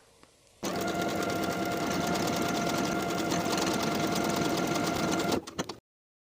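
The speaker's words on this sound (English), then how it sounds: "I'm going to sew a buttonhole at the bottom point of the flap." Sewing machine stitching a buttonhole at the point of a shirt-jacket pocket flap, a single continuous close mechanical whir lasting about five seconds before stopping abruptly.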